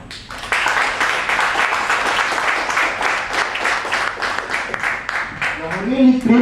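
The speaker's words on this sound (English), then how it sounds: "We need to give him a round of applause." Applause from an audience at a gathering of international participants, dense steady clapping filling the room for several seconds, with a voice starting to speak near the end.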